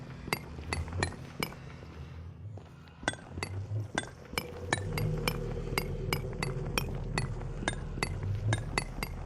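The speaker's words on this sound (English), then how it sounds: "I don't know why I'm chiseling such a big area." Repeated sharp metallic clinks of blocks being chiseled in Minecraft GTNH, a steady fast rhythm of bright taps over a low ambient hum, fairly quiet and close.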